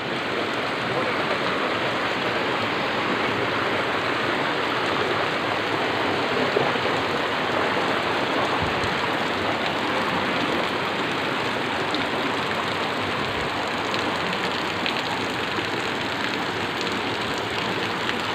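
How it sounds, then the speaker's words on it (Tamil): Water pours from a Shiva statue at a forest temple in a constant, dense splashing rush, loud and close, holding steady throughout. "தண்ணி சிவன்லேருந்து மேலேருந்து ஊற்றுது."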